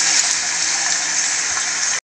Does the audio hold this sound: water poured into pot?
yes